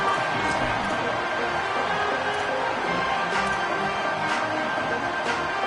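A football stadium crowd roars steadily after a punt return, a broad sustained wash of cheering from a large audience.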